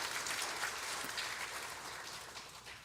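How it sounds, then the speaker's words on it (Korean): Congregation at a Korean church joint service giving encouraging applause, a continuous, fairly soft wash of many hands clapping that holds steady and slowly tapers off. "우리 박사님께 격려 박수 한번 하겠습니다."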